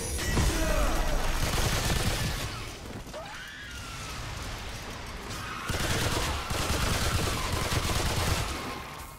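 Gunfire in the video game Remnant 2 during a boss fight, dense rapid bursts of shots and crashing impacts filling the whole stretch, loud and continuous with a brief lull midway.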